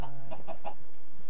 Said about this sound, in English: Okay, that's 9 chickens.